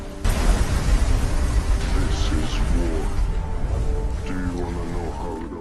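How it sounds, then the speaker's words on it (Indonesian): A loud, sustained blast rumbles on, a deep roaring wall of sound that stays heavy throughout and fades only slightly toward the end. "Sampai akhirnya Rob terkena ledakan"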